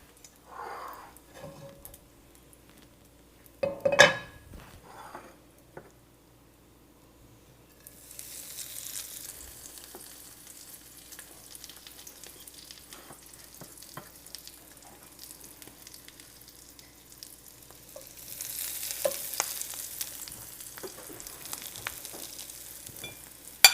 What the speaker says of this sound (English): that sizzle sound is the sound you know that the oil's at the right temperature